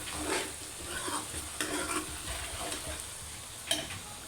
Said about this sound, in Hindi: इसमें मिर्चें डाल दें सब, उन्हें अच्छे से पकाएं।